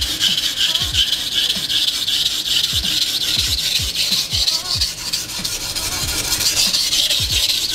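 A Nishida Kurouchi petty knife is drawn in long, even strokes across a wet sharpening stone, each pass a gritty scrape with a brief squeak, repeating at an irregular rhythm close by.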